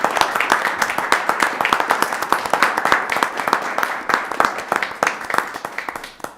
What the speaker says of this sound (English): I'll give you guys a round of applause.